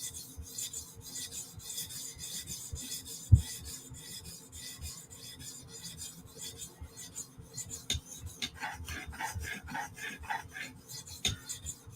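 A kitchen blade is stroked across a 400 grit sharpening stone in a steady rhythm of soft, close rasping scrapes with occasional sharper ticks, heard alone at low level.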